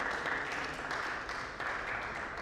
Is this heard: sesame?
no